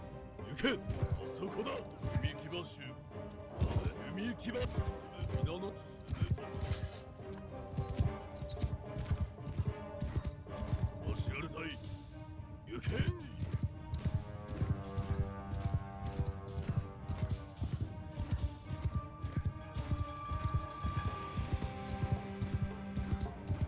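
A horse's hooves clip-clop in a steady rhythm in the samurai video game Shokuho, with a player talking over the footsteps and game music.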